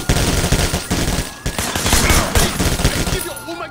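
Sustained automatic gunfire in a Sleeping Dogs shootout with police, dense rapid bursts that carry on almost without a break. The fusillade is loud and close.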